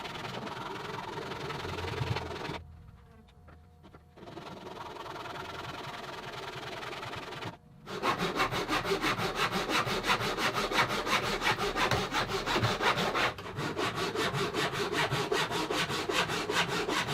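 Repeated strokes of a hand saw cutting tapered end-grain wood pieces for an acoustic guitar rosette, close and steady, with a brief pause partway and a quieter stretch early on.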